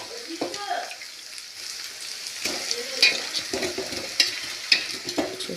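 Chicken pieces drop into a hot kadai for a curry and start to fry, a soft sizzle broken by scraping stirs and several sharp clattering knocks of the ladle against the pan.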